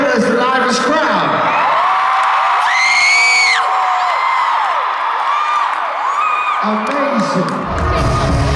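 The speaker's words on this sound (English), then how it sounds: "right now Canada's the loudest crowd" Large arena crowd at a Canadian pop concert cheering and whooping loudly and continuously, with high shouts and screams rising over a dense roar that swells near the middle and stays strong to the end.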